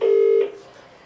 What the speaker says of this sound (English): It's ringtone. That's ringtone.